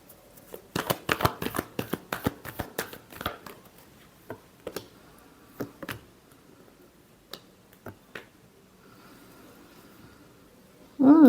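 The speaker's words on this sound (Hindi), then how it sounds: "last shuffle" Tarot cards are shuffled in a quick burst of crisp riffling flicks near the start, followed by a few sparse taps and card snaps in an otherwise quiet room.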